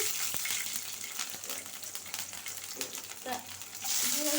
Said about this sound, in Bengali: তেল গরম হয়ে গেছে দিয়ে দিলাম পেঁয়াজ কাঁচামরিচ রসুন কুচি সব দিয়ে দিচ্ছি